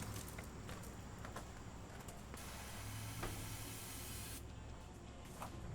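Starting fluid sprayed from an aerosol can into the carburetor of an International Scout with a 304 V8: a steady, close hiss that runs unbroken for several seconds, with a small surge partway through.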